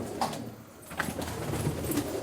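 Male Madrasi pigeons in a Kolkata loft give soft, low coos, a few brief calls scattered over a quiet background, faint and somewhat distant.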